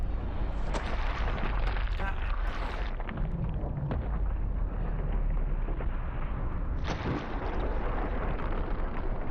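A supersonic 550-grain .50 caliber lead slug fired from an ATR30U launcher, giving a loud, dense burst of noise that stays harsh and continuous, with a second sharp crack about two-thirds of the way in.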